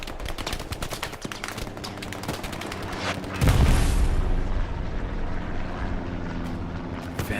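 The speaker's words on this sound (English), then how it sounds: "Grenades being bounced around here." Gunfire and explosions in an online World War II-style multiplayer shooter fought around trenches, with a steady rattle of shots and a loud deep blast midway, followed by continuing roar and crackle.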